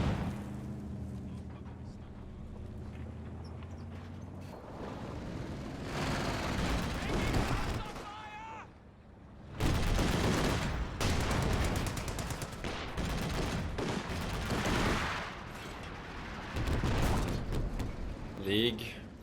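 Artillery fire and combat in the WWII strategy game Company of Heroes 2: heavy booms and rattling gunfire in repeated loud waves, with a caster talking over much of the battle.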